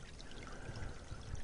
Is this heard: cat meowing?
no